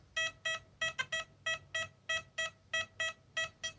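An XP Deus metal detector sounds over a buried target, likely a Saxon strap end, giving about fourteen bright, evenly spaced electronic beeps in a steady rhythm, close and clear with no talking.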